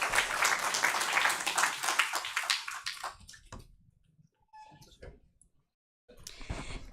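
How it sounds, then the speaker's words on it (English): An audience at a one-day international workshop on mind-body intervention claps in a dense round of applause for about three seconds. It then thins to scattered claps and pauses, with a brief burst of noise at the end. "So can we have a round of applause for our little angels?"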